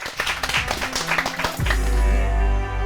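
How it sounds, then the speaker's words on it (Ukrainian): Audience applause at an improvised poetry show, a lively burst of many hands clapping for about a second and a half, then cut off by a deep sustained low hum with no voices. "Ваші оплески"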